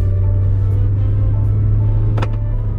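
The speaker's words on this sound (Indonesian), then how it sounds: "suara mesinnya masih kedengeran" A 2019 Toyota Innova Venturer engine pulls under acceleration as a steady, strong low drone heard from inside the cabin, with faint road noise and a brief knock near the end.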